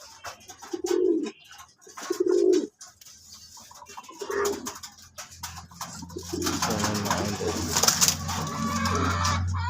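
Pigeons coo nearby in low, throaty bursts, two distinct coos early on, then more cooing mixed with chirps and a steady background rumble.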